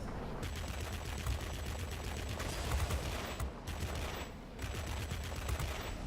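Sustained machine-gun fire from an aircraft in World of Warplanes, flown in a Tier IX German Messerschmitt Me P.1092, forms a dense, continuous rattling burst that stays fairly quiet and steady throughout.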